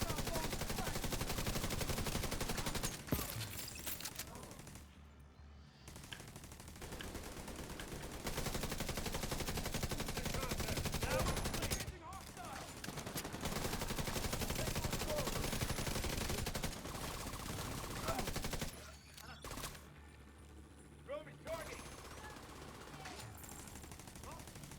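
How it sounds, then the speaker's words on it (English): Rapid automatic gunfire from a video game turret, dense sustained bursts with brief pauses between volleys, loud and continuous against in-game noise. "My turret is actually hitting harder per shot than me."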